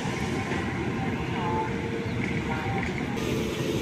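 A double-decker train departs Chennai Central station, rumbling steadily and loudly with a continuous low roar of wheels and carriages close by.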